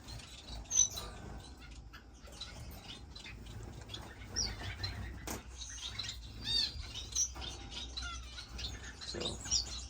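Finches of several species in an indoor bird room: scattered high chirps and tweets at moderate distance, with wing flutters and small mechanical clicks against a soft background hum.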